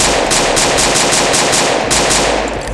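Rapid automatic gunfire from a Roblox game gun system, loud bursts of clipped shots stacking into continuous rattling fire with a few brief gaps, no voices.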